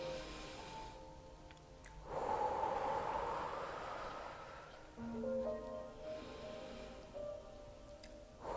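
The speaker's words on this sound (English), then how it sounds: "Begin by taking a deep breath in" Two long, audible breaths are drawn in during a beginner morning yoga and stretching routine. Each inhale swells and then fades over a few seconds. They sound close and fairly soft over a faint steady background, with no speech.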